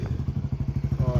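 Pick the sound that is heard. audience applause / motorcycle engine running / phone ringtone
motorcycle engine running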